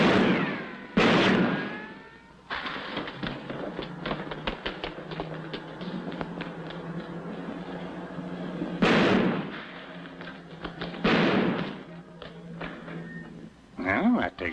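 Gunshots from a 1947 comedy film, several sharp loud broadband bangs near the start and again in the middle and end, set against a steady hum of old film soundtrack.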